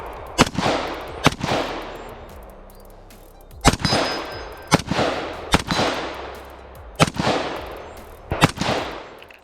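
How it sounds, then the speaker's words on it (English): Pistol shots ring out against steel targets at a practical shooting match, each loud sharp crack followed by a metallic clang, fired in quick pairs and triplets with short pauses between groups. "engage each target with 3 hits from your pistol"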